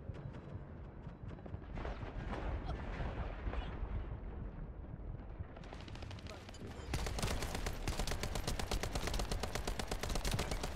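A secondary weapon fires in The First Descendant video game as dense, sustained gunfire that grows louder and more rapid partway through, among loud game effects.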